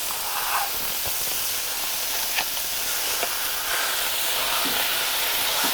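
Two pounds of ground beef browning in a preheated stainless steel pan, a steady broadband hiss and sizzle with occasional small pops and crackles, close and continuous with no talking.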